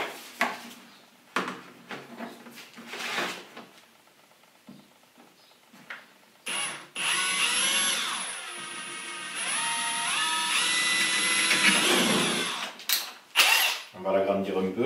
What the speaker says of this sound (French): je vais commencer par faire un perçage en bas du bidon